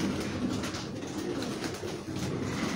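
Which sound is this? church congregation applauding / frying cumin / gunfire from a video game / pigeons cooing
pigeons cooing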